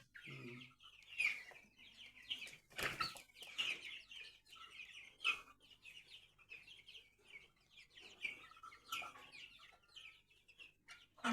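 Several chicks cluck and chirp close by, overlapping short calls in an uneven stream, with no talking.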